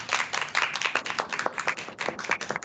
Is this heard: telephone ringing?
no